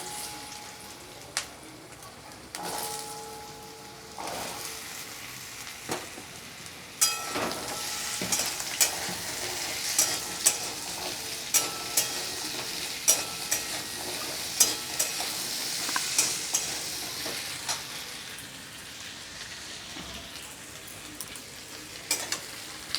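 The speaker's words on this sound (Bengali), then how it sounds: "কড়াইটা এবার গরম হয়ে গেছে, আমি এবার আলুগুলোকে ছেড়ে দিচ্ছি।" Potatoes dropped into a hot wok fry with a steady sizzle, while a utensil stirs and scrapes them in sharp, repeated clatters over the constant hiss, all close and fairly loud.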